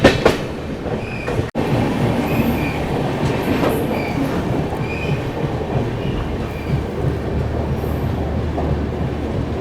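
Kashi Mahakal Express passenger train rolling steadily along the rails on the approach to Sultanpur Junction, a continuous loud rumble with rhythmic wheel clatter and faint higher squeals, with one sharp momentary dropout early on.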